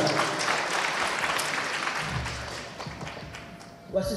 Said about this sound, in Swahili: Tuongeze makofi tafadhali.